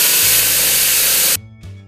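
A power drill bores through a thick planter pot with a loud, harsh grinding rush that lasts over a second, then cuts off abruptly, leaving a faint low rumble.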